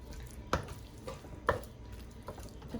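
Chicken pieces fry with garlic paste in a pan, a soft steady sizzle broken by two sharp scraping knocks of a spoon stirring and a lighter clink near the end.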